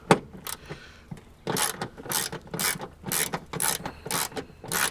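Rapid ratchet clicking on a 10mm bolt on a second-generation Toyota Tacoma, close and loud: a few isolated clicks, then sustained rhythmic bursts of ratcheting strokes.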